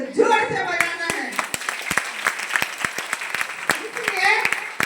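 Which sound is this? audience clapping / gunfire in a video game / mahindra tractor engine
audience clapping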